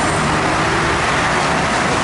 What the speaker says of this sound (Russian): движение восстановлено. Автомобили ездят.